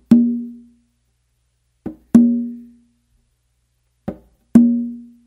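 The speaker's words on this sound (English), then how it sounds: "he does like a finger tap and then an open with his right hand." Conga yambu pattern on a tumba, struck as a short finger tap followed by a ringing open tone. The pair repeats twice after an opening tone, with crisp, close, resonant strikes and silence between them.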